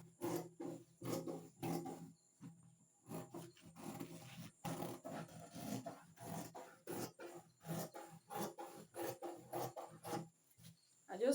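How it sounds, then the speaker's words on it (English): Scissors cut fabric for a mini flare gown in a quick, steady run of short rasping snips, close to the listener and with brief pauses between cuts. "I'll cut it now."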